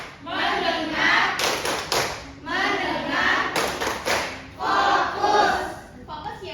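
Schoolchildren in a classroom repeat the tepuk fokus clapping chant three times, each chanted line in unison followed by a quick cluster of sharp group claps, loud and near.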